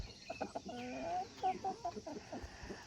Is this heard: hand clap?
no